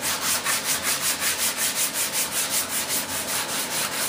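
A sanding block rubs back and forth across a model F-18 turbine jet, making a steady, close, rhythmic scraping with about twenty even strokes and no talking.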